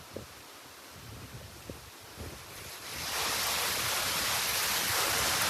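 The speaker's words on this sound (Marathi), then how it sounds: "पावसाला झालेली आहे सुरुवात आणि अशी धमाकेदार सुरुवात झाली ना" Heavy monsoon rain pours down at a farmhouse, a dense broadband hiss that starts moderate with a few scattered knocks, then swells into a louder, steady roar partway through, with no talking.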